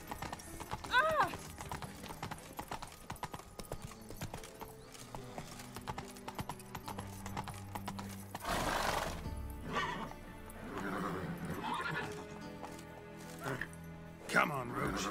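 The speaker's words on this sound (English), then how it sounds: "Come on, Roach." Roach the horse galloping with rhythmic clip-clop hoofbeats and repeated whinnies in The Witcher 3: Wild Hunt, game music and effects underneath, a loud neigh near the middle.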